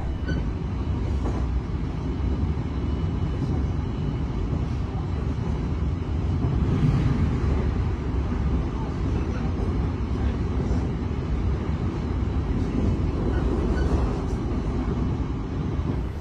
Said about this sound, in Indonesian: kereta api Gaya Baru Malam Selatan sudah tiba kembali di stasiun Jatibarang